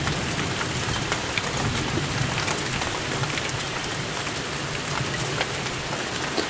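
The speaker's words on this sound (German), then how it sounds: "Aber steht jetzt auch wirklich der Regen wieder volle Kanne, volle Möhre sozusagen auf die Tür." Heavy rain in a night thunderstorm, pouring down hard and steadily in a dense wash of close patter against a door, without a break and with no voices.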